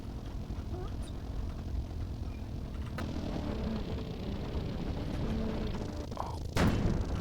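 Tank cannon fired at the side of an enemy Tiger's turret in a video game, a sharp heavy boom near the end over a constant engine rumble and battle noise.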